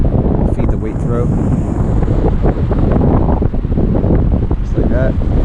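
Strong gusting wind at the coast during a tropical storm with 40 mph winds, roaring and buffeting loudly against the microphone, with a few faint voice fragments underneath.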